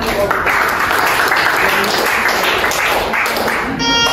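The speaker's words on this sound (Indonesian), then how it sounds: "Kita beri tepuk tangan." A classroom gives group 2 a steady round of applause, dense clapping at a close, even loudness for about four seconds, with voices in the room.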